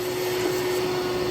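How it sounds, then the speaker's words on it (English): A vacuum cleaner runs with a steady, loud, even whine as it sucks leftover ash out of an Ambiance wood-burning fireplace. "we're going to vacuum out the remainder of the ash"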